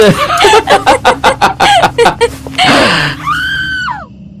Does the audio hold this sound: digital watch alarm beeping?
no